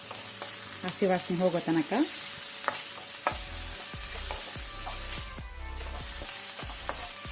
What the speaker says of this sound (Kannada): ಶುಂಠಿ ಬೆಳ್ಳುಳ್ಳಿ ಪೇಸ್ಟ್ ಹಾಕೋಣ, ಜಿಂಜರ್ ಗಾರ್ಲಿಕ್ ಪೇಸ್ಟ್. ಇದನ್ನು ಸ್ವಲ್ಪ ಫ್ರೈ ಮಾಡ್ಕೊಳ್ಳುವ